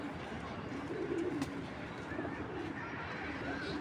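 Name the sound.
racing pigeon cooing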